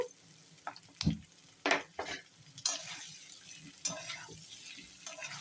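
Baby potatoes fry in oil in a pan and are stirred by hand, giving soft sizzling with intermittent scraping and clinking strokes, all fairly quiet and close.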